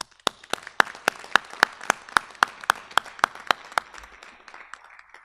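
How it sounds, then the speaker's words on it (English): Audience applause in a town meeting auditorium after a colonial minutemen drill display: a string of crisp, evenly spaced claps in steady rhythm that fades toward the end, with no talking. "A round of applause for the Wilmington Minutemen."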